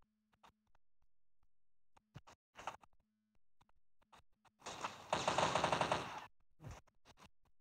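A short burst of rapid gunfire rattles for about a second amid scattered clicks and taps, with a faint steady tone beneath and no voices.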